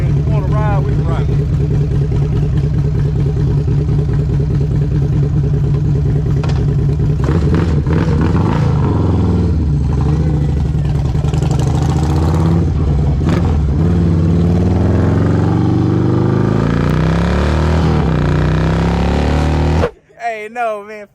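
A Harley-Davidson CVO motorcycle idles with a loud, close, lumpy throb, then revs and pulls away, its rumble wavering and fading as it rides off, with people talking over it.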